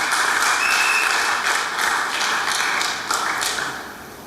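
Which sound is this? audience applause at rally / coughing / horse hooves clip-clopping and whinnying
audience applause at rally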